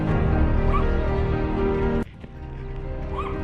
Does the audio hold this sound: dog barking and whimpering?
yes